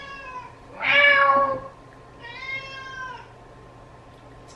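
A pet cat gives two distinct meows, the first louder and longer, the second softer after a short pause, close by in a quiet indoor room.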